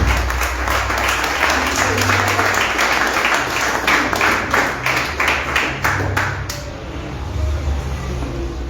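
Congregation applause in a church, a sustained wash of clapping from many hands that thins toward the end, with low voices and music underneath.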